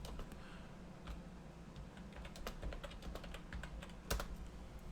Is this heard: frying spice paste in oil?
no